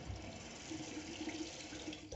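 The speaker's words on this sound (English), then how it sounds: "You're going to be hearing the sink a lot, because I need to wash my hands and stuff." Water running steadily from a tap into a sink for hand washing, a continuous soft rushing stream at moderate distance, alone with no talking.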